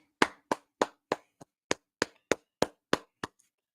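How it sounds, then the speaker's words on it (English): Eleven sharp, evenly spaced claps ring out one after another, close and dry, like a sparse round of applause sound effect with silence between each clap and no talking. "Round of applause."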